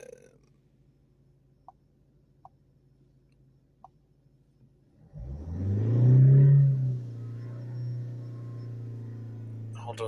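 Ford S-Max 2.0 diesel during particulate filter regeneration: quiet idle hum, then the engine revs up sharply to around 3,000 RPM, holds a loud steady drone and settles slightly lower near the end.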